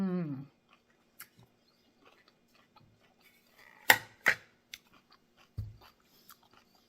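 Someone eating sticky pork with onions, a few soft chewing and biting sounds spread through near-silence, with two louder crunchy bites in the middle and a low thump near the end.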